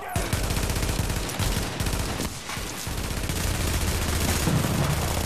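Rapid explosive-round gunfire in The Division's Dark Zone, a dense, loud stream of overlapping shots and impacts running continuously throughout.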